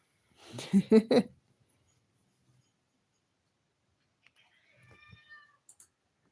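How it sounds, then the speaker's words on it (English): A house cat meows twice in a row, close and fairly loud, followed by a long quiet gap and then a few faint soft sounds and clicks. "The cat's meowing at her."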